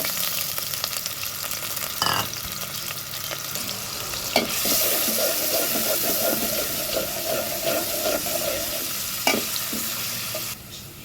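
Onions frying in hot oil in a home kitchen: a continuous, close sizzle with occasional stirring clicks and scrapes, no talking.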